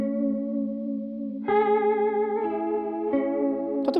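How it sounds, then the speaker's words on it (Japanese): Electric guitar run through a phaser-type modulation effect controlled by a CASIO Dimension Shifter strap-mounted controller, playing a few sustained notes with a swirling, shifting tone that changes on each new note; close and alone, no talk. "このフェイザーとか揺らし系のエフェクトって本当になんか1音単位でこう変わってもいいんだな"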